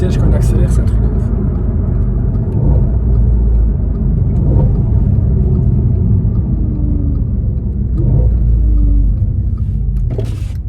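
Inside an Audi RS4 with a V8, the engine gives off a heavy, steady rumble with a few gentle swells in pitch, loud and continuous throughout, with short clicks and knocks near the start and end.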